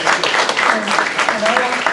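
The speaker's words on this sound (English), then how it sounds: "I would like to make sure we're applauding them for everything over the past" Applause fills the room at a housing authority board meeting, a dense continuous patter of clapping with a voice speaking over it.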